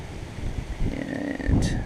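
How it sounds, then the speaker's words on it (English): Outdoor wind buffets the microphone at a metal-detecting site by an old pioneer church, producing an irregular low rumble that swells and gusts over about two seconds. "sorry about the wind"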